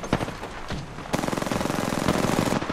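Rapid automatic gunfire from the video game Apex Legends, a loud close burst that breaks off briefly and then resumes as a dense sustained stream of shots, with no talking over it.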